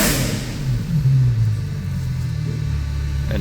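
A Ferrari 812 Superfast, naturally aspirated, with an IPE exhaust and its valves closed, idles in a deep, steady low rumble, close and even, with no voices.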